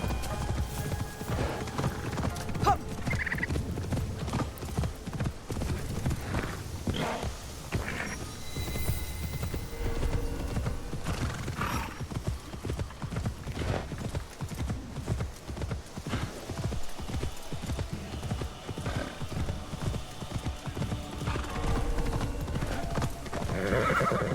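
Steady galloping hooves of a horse in Assassin's Creed Shadows on PS5 pound continuously for a long stretch, with occasional whinnies and snorts breaking through the rhythmic clatter.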